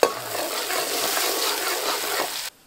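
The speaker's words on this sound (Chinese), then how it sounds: "不是剁椒了，我这油炸辣椒了" Chili peppers fry in hot oil in a home kitchen pot for a chopped-pepper fish head, giving a loud, steady, close sizzle that holds for about two and a half seconds, then cuts off abruptly.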